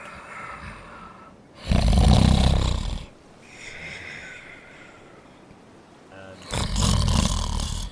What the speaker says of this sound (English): you got very funny snoring at the beginning